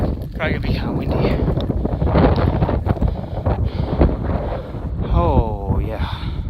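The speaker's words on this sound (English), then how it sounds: "Probably gonna be kind of windy." Steady wind buffets the microphone in a constant roar on the Highline Trail in Glacier National Park, with a person talking over it throughout.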